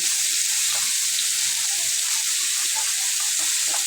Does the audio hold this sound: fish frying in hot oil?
yes